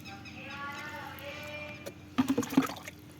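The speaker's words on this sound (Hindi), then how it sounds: "और अब मैं इसको हर गमले में थोड़ा थोड़ा ये पानी दे देने वाली हूँ" Water mixed with Trichoderma solution is poured into plant pots of dry soil: a few short, close splashing and trickling bursts come near the end after a quieter stretch.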